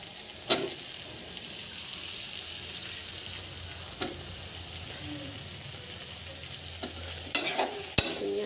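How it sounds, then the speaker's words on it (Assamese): Capsicum stirred into a pan of frying tomato and potato, with a steady low sizzle broken by a few sharp spoon clacks against the pan near the start and end. "ইয়াত মই এতিয়া কেপচিকামখিনি দি দিম"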